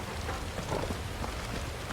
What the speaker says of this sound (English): but this rain, I'm feeling Leviathan